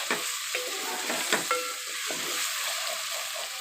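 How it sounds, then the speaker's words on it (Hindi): Garlic-ginger paste and green chilli fry in a hot pan with a steady sizzle, while a spoon scrapes and stirs in several short, clattering strokes. "अभी हम थोड़ा सा इसको भूनेंगे।"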